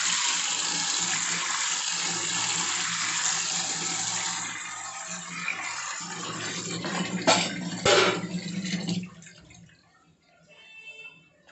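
A cooking pot being washed under running water in a kitchen before frying fish: a continuous loud splashing stream, then a few clattering knocks and swishes as the flow tapers off near the end.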